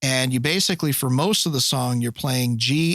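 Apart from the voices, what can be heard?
No distinct noise like a dog, phone or traffic.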